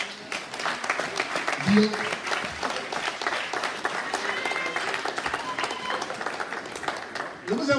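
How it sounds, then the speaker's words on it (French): A church congregation applauds steadily through a worship service, a dense continuous wash of clapping from many hands, with a voice briefly speaking over it. "On acclame notre frère Goumbia."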